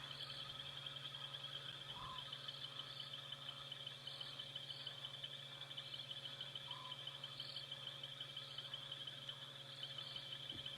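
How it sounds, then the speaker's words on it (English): A faint evening chorus in the African bush at sunset in Kenya's Mara: frogs and insects trill continuously, a low steady drone beneath, occasional soft bird calls, distant and quiet with no talking. "Can you all hear the lovely birds and frogs and the scops owl that's calling in the distance?"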